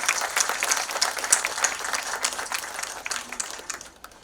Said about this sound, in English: can we fill this room once again with a big round of applause?